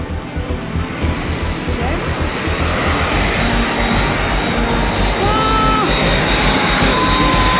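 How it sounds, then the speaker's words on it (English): An Airbus A330 airliner passes low overhead near a beach on Saint Martin, producing a loud, continuous jet engine roar with a steady high whine that fills the whole stretch. "That was an A330 just meters from us."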